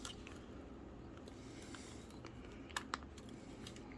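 A lens clicking into the mount of a Nikon F film camera, an AF 70-210mm f4, gives two quick, close, crisp clicks about a fifth of a second apart against a quiet room hiss.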